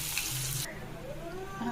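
Onions and green chillies sizzle in hot oil for a tempering of boiled green gram sprouts, a loud steady fry that thins out after the first moment into a softer crackle.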